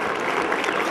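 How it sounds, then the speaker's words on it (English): A dense, steady wash of clapping from an audience greets the St. Louis AAA Amateur Blues pee wee hockey team at an event, filling the whole short moment without a break. "how about a nice round of applause for the St. Louis AAA Amateur Blues"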